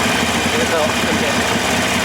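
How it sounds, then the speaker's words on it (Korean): Harley-Davidson Iron 883 motorcycle engine braking on a road while cornering, a steady loud low rumble with wind noise filling the whole stretch, no clear rise or fall. "엔진 브레이크 활용해서 이렇게 가는 겁니다."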